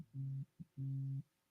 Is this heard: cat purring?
no